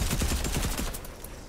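Video game gunfire in a team multiplayer match: a rapid burst of automatic shots rattling loudly and continuously, tailing off slightly toward the end.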